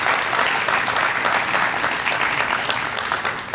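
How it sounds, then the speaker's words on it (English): Sustained, loud applause from a crowd at a dance competition kickoff event, thick and even from start to finish without voices over it. "A round of applause for them as well."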